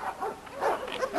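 A red dog with a black mask gives a few short close barks and yips in a yard, quick bursts packed into about a second.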